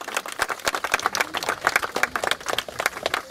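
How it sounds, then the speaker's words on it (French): Applause at an outdoor inauguration ceremony for an artwork in Roura, a lively patter of many hands clapping close by, steady and dense throughout. "je vous applaudis"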